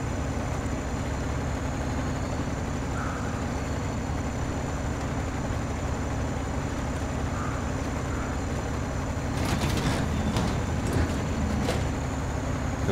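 Steady tractor engine in SnowRunner driving across a farm field, a continuous low drone with constant loudness and a few brief clanks near the end, no talk.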